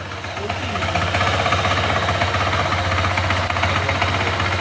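A Honda Click 125 V3 scooter engine with an abnormal engine noise runs steadily and loudly with a low, rattling drone, holding an even level throughout.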